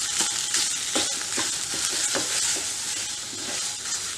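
Khoya being stirred and roasted in a kadhai over a low gas flame, steady scraping strokes over a soft continuous sizzle, close and moderately quiet, with no voices.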